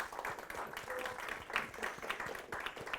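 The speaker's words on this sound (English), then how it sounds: "let's give them another applause" Applause from the audience at an electric-vehicle association's general meeting, a few seconds of fairly faint, steady clapping in a room.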